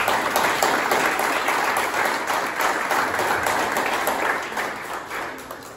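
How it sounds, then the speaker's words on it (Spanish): A congregation at a religious gathering applauds the Father, a loud, steady wash of clapping from many hands that fades slightly toward the end, with no clear speech over it. "Estamos de aplaudir al Padre por eso."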